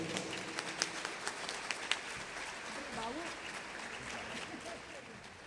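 Audience applause fills a hall at the opening session of the Flipoços 2025 literary festival, a broad steady wash of many hands clapping with a few sharper claps early on, fading slightly toward the end.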